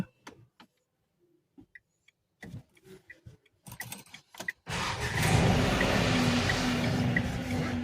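Keys jangle and click into the ignition of a parked Renault Triber, then the engine cranks and settles into a steady, loud idle close by.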